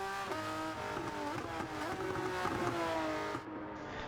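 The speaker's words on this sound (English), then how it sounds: "Let's take a quick moment to listen to that engine's deep roar." Porsche Cayman GT4 engine in Gran Turismo 7 roars loudly and steadily, its harmonic tone rising and falling as it revs through gears, then cutting off near the end with a brief crackle.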